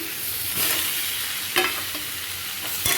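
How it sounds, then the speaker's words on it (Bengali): Potatoes and tomatoes frying in a pan with spices over low heat, a steady close sizzle with a few louder stirring scrapes and splashes, no voices. "একটু ভাজা হয়ে যায় এটা"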